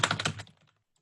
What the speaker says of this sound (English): we type in a couple of fields